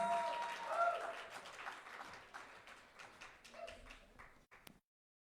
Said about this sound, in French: une bonne main d'applaudissement pour Jolie qui nous offrait sa pièce Cercle vicieux